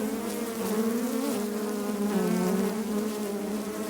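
Agitated honeybees in an opened hive in late winter give off a dense, continuous buzz, loud and close, with a wavering drone that never lets up.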